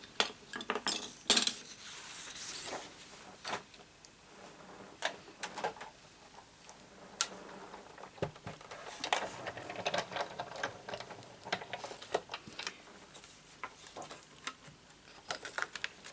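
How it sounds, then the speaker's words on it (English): A Big Shot die-cutting machine is set up on a craft table, with close, irregular clunks, clacks and rattles of plastic and metal parts being moved. "I need to bring up my big shot."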